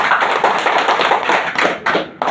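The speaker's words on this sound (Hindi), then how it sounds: "हमारे जो गुरु हैं दुर्गा प्रसाद पुरी, उनके लिए जोरदार ताली।" An audience applauds a guru named Durga Prasad Puri, with loud, dense clapping that stays steady, then briefly drops off and resumes near the end.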